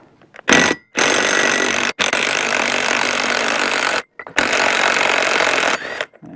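Loud, continuous rattling of a power socket wrench working the front yoke nut off an NP231 transfer case, running in three long bursts separated by short pauses, close up with no talk.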